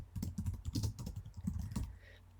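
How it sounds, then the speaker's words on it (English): A title is typed on a computer keyboard, a quick close run of clicking keystrokes in steady succession, slowing to a final couple of taps with no voice. "let's just type in the title"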